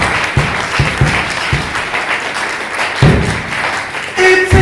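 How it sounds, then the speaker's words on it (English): A congregation claps at a Catholic baptism service, loud sustained applause with a few heavier thumping claps standing out, filling the whole stretch without talk. "Let us clap for this Jesus."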